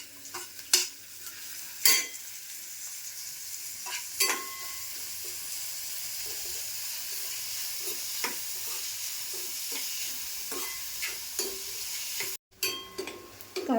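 Finely chopped onions fry in hot oil in a pan, sizzling steadily while a utensil stirs and scrapes them now and then with sharp clinks.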